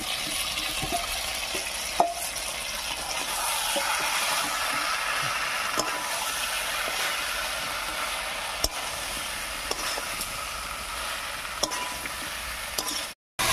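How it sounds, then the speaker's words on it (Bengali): Fried potato and green jackfruit being stirred into oil-rich masala in a pan for a prawn curry: a steady, dense sizzle runs throughout, broken by occasional soft scrapes and clicks of stirring, before a brief cut at the end. "এঁচোর আর আলুটা দিয়ে মশলার সঙ্গে খুব ভালো করে মিশিয়ে নিয়েছি"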